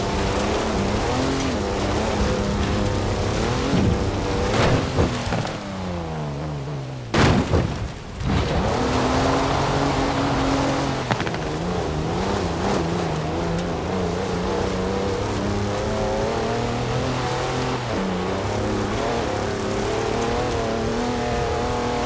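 A 340-horsepower car in the Forza Horizon 4 racing game: a loud engine revs and accelerates through rising and falling gear changes, with a brief dip in the middle, and no talking.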